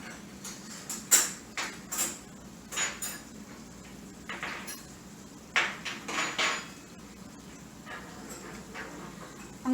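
A utensil knocks and scrapes against a pan while chicken fajitas with green and red peppers and onion are mixed, giving a run of uneven clanks and scrapes, moderately close, with quieter gaps in between.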